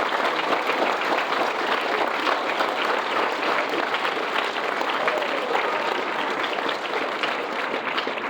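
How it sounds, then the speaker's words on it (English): Loud, continuous applause for students fills the room as an audience claps in a dense, unbroken roar, close and even for over eight seconds. "Could you please give them a huge round of applause?"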